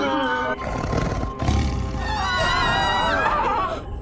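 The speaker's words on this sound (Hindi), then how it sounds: "प्रतीत होता है उस बाघ का आत्मविश्वास बहुत बढ़ गया है, तभी तो इतनी तीव्र ध्वनि से वो दहाड़ रहा है" A man-eating tiger roars loudly and continuously, a harsh, rumbling cry that fills the scene with wavering, voice-like overtones and no pause.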